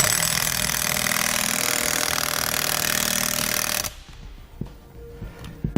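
Impact wrench or power tool driving a socket on a long extension to tighten rear suspension nuts during a Timbren suspension install, a loud steady rattling drone for about four seconds that stops abruptly, followed by quiet clinks.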